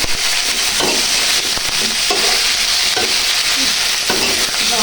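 Cut eggplant, potato and tomato sizzle loudly in a frying pan while being stirred, with rhythmic scraping strokes about once a second over the steady hiss of hot oil.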